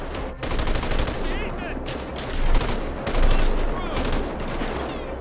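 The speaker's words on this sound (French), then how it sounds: "Là ça canarde les gars." Heavy automatic gunfire in GTA 5 during a police-and-army city battle, dense overlapping bursts of rapid shots that run nearly continuously at close range with only short breaks.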